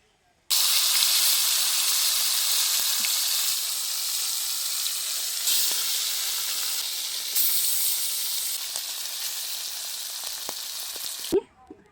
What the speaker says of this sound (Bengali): থাকা তেলে আমি যে গোটা গোটা মাছগুলো মাখিয়ে রেখেছিলাম এই মাছগুলো ভেজে নেব।